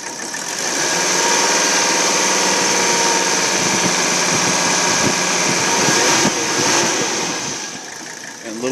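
A 1984 Mercedes 300 TDT turbo diesel wagon engine, high mileage, idles with a steady, close, loud clattering hum and a faint rattle, its level swelling slightly midway and easing toward the end.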